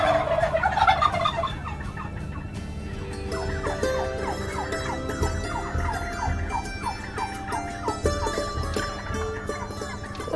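Turkeys on a village poultry farm gobble repeatedly in overlapping, warbling bursts, several birds calling at once against a busy farmyard background, fairly close and continuous throughout.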